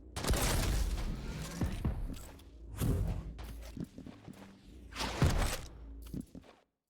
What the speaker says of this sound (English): Rockets fly by Kelts' face.